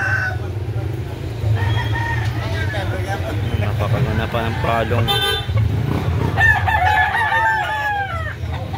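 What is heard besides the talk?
White Kelso gamefowl rooster crowing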